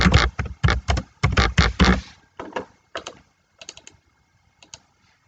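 Computer keyboard typing close by, several quick bursts of sharp key clicks that grow sparser and fainter toward the end, with no voices.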